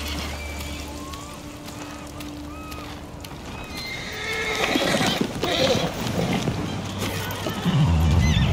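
A horse whinnies in the Ghost of Tsushima video game, with hooves clopping amid ambient outdoor sounds, growing busier and louder toward the end.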